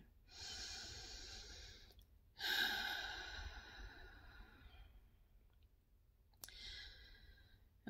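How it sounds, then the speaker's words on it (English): Slow, deep breaths during a chakra meditation session, with long drawn inhales and exhales separated by pauses, close and soft, with no speech. "let's start with some deep breathing again"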